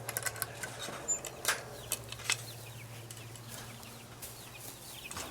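A mother hen with her twelve young chicks makes soft clucks and scattered high, thin peeps at close range over a steady low hum.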